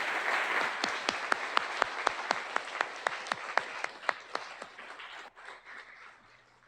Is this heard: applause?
yes